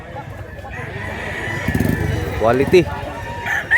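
A rooster crows once or twice in a short, rising-and-falling call, fairly close, while people talk nearby in the background.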